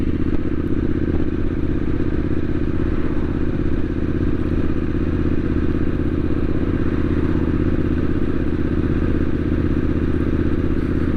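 Triumph Street Scrambler 900 motorcycle riding along, a steady, loud engine drone and road rumble running unbroken from start to finish, with no speech.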